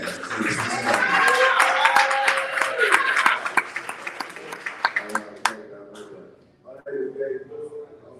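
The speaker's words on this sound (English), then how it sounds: "please give another loud round of applause for the Living Room Podcast" A live audience at a podcast expo claps for a few seconds, then the applause thins into scattered individual claps before a voice speaks briefly at the end.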